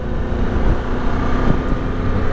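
A Harley-Davidson Pan America 1250 motorcycle rumbles steadily on the move, a loud low engine drone blended with constant wind buffeting.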